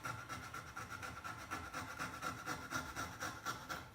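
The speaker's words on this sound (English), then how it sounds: "just kind of use the blade and just use it as a file itself" A utility knife blade scraped like a file across MDF base molding, giving a faint, rapid rhythmic rasping of repeated short strokes.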